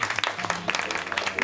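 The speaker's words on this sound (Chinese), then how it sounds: "大家掌声欢迎。" A short burst of classroom applause welcoming a new student, many hands clapping briskly and fairly close for about a second and a half.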